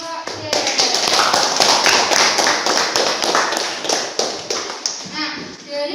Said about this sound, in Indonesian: Oke, beri tepuk tangan untuk kelompok C.